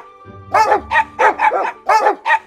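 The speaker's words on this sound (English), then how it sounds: "Dog, dog, dog." A dog barks six times in a quick uneven series, loud and close, each bark short and bright, with low background hum between them.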